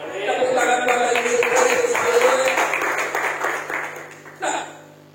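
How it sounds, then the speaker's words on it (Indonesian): Church congregation applauding after a preacher calls for it, a dense patter of clapping that swells, then fades toward the end with a brief final burst. "Tepuk tangan Bapak Ibu."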